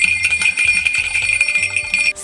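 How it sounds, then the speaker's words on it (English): A cage bell from a baby multi-sensory basket rings with a bright, sustained metallic tone, rattling repeatedly and loudly for about two seconds before stopping abruptly. "This is a cage bell."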